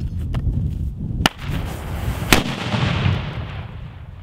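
A flash-bang grenade goes off outdoors with a sharp, loud crack, followed by a second abrupt bang about a second later, each trailing into a rumbling, noisy decay.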